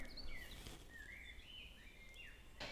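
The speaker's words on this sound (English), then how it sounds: "This is the sound of the forest." Faint, quiet mid-morning forest ambience with soft background hiss and a few distant birds chirping and whistling. No voices.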